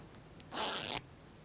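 A clothing zipper on a sewn skirt is pulled in one quick, close zip lasting about half a second, preceded by faint small clicks in a quiet room.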